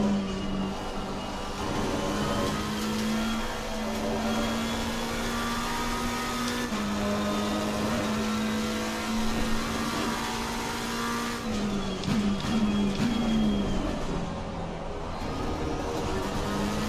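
A race car engine in Assetto Corsa Competizione drones at a steady, high pitch through a night race at Kyalami. It holds a sustained note, dips briefly, then climbs again as the car accelerates, with a stuttering shift near the end.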